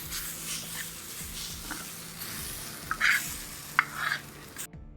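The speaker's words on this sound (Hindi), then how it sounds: "अब हम इसके अंदर कीमा डाल के मिक्स कर देंगे।" Minced meat being mixed into gram flour batter, heard as soft, wet stirring and sloshing with a few sharper scrapes and clicks near the end, close and fairly quiet, with no talk.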